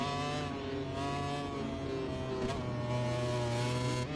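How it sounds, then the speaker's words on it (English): A motorbike revving in the video game MotoGP25: a steady, loud engine drone that holds its pitch and briefly surges, with no speech over it. "when he revs the bike"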